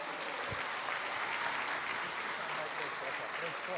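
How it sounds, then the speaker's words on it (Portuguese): A church congregation at a Sunday worship service claps together in steady, dense applause that fills the room, loud and continuous, with voices mixed in underneath. "Você pode dar uma salva de palmas ao Senhor?"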